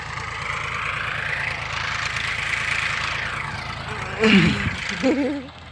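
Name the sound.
tractor engine idling on a farm field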